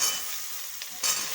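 Kohlrabi and potatoes frying in a pan, a steady close hiss of sizzling oil with a brief stir-like swell near the end, no talking.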